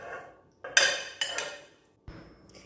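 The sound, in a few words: chopped ingredients tipped into a pot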